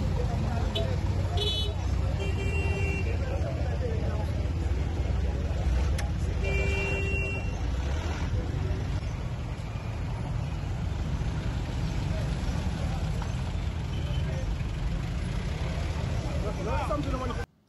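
Road traffic on a busy street, a steady rumble of passing cars and trucks with occasional horn toots, voices mixed into the background.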